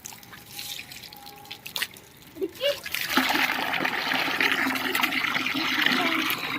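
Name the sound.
water pouring from a pipe during Holi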